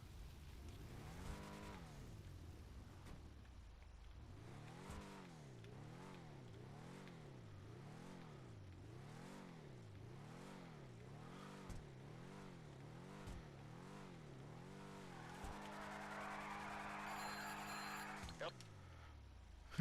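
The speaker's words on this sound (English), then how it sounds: "But just listen to the engine." A car engine in a video game revs repeatedly, its pitch rising and falling in rhythmic surges, then holds high before cutting off; quiet overall.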